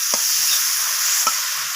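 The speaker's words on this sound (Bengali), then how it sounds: "লবণ আর হলুদটাকে দিয়ে চিংড়ি মাছটাকে একটু নাড়াচাড়া করে ভাজা ভাজা করে নিচ্ছি" Close, steady sizzle of shrimp frying with salt and turmeric, with two brief spatula scrapes as it is stirred.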